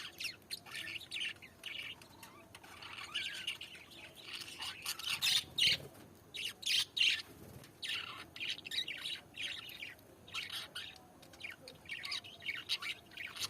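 Birds huddled together in cold weather, squawking and chirping in repeated scattered bursts over a low, steady background, fairly faint and with no talking.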